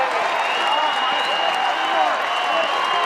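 Large crowd at a college baseball game, LSU vs Florida, roars steadily after a Florida Gators home run, a dense sustained cheer with whistles piercing through, loud and continuous.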